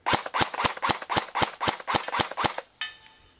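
A DE M89 UMP airsoft gun fires about ten sharp snapping shots in an even rapid rhythm, close and loud, followed by a short ringing clatter at the end.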